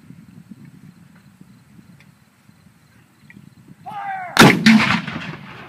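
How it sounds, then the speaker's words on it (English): A cannon fires at a Civil War battlefield monument during a demonstration, one loud booming blast with a rolling echo, coming after a rising whistle-like sweep and quiet outdoor rumble. "A little cannon fire right here."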